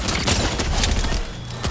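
Shotgun blasts in a Fortnite match, loud booming shots packed closely together with heavy thuds over a noisy game background, no clear talk.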